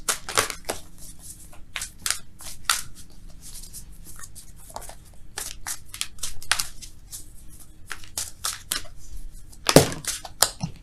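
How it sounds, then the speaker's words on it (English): Tarot cards are shuffled by hand nearby in a rapid series of crisp riffles, slaps and flutters, irregular and close, with no talking. "Let's shuffle for real, though."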